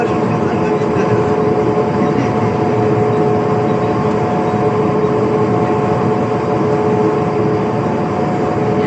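An Alstom Metropolis metro train rolls steadily on the line in Lille, with continuous loud rumble and a motor whine, heard from inside the car.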